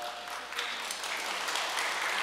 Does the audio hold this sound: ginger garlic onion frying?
no